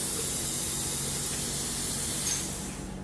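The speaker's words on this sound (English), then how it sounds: "the steam unit is still, it's still boiling" A steam unit used for pipe liner patch repair gives a loud, continuous hiss of escaping steam that fills the clip, steady throughout and easing slightly near the end.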